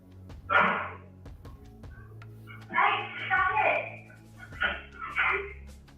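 Dogs in a video game bark and yip in several short bursts, with a soft whimper between them, heard over a low steady game soundtrack.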